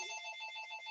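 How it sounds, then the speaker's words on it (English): A telephone rings during an office-style talk, its steady electronic bell tone sounding continuously and alone at moderate level, with no speech over it. "there's a phone ringing"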